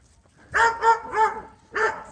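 Dogs out on a walk along a heavily wooded campground loop at Higley Flow State Park in the Adirondacks, New York, give four quick close barks, three in a burst and one after a short pause.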